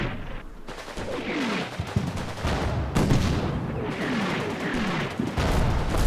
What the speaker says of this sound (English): God, that's a lot of explosions over there.